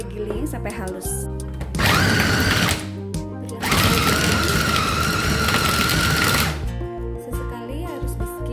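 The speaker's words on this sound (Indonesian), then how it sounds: "Lalu kita giling sampai halus." Two loud bursts of an electric chopper grinding beef meatball mixture with ice cubes, each running a couple of seconds, separated and followed by quieter moments with background noise.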